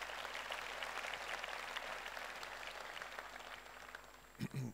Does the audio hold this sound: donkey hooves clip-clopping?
no